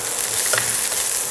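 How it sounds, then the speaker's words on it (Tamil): Small onions sautéing in a pan with toasted toor dal, a steady close sizzle with faint stirring scrapes and no voices. "இது கொஞ்சம் உதிர்ற வரைக்கும் வதக்கிங்க."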